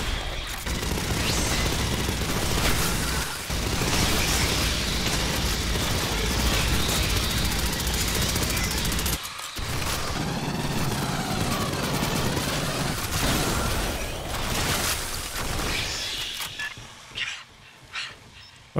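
Rapid gunfire from marines fighting alien xenomorphs in the shooter Aliens: Fireteam Elite, dense bursts and booms near and loud for most of the stretch, easing into scattered shots near the end.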